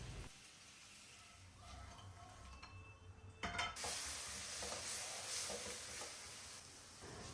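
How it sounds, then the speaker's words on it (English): Potatoes roast in a pan for a sandwich filling, a continuous low sizzle and crackle with occasional faint utensil clicks, growing a little louder midway. "Here, I'm roasting the potatoes for the sandwich."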